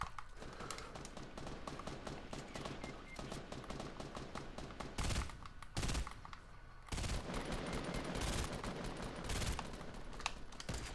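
Sniper gunfire in the battle royale video game Fortnite, with steady rapid crackling shots and several louder, sharper reports standing out against the busy game sound, with no talk.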